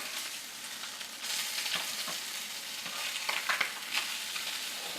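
Breaded tilapia fillets fry in a pan with a constant crackling sizzle, occasional louder pops and spits rising above the hiss.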